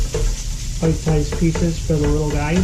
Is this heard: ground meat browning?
yes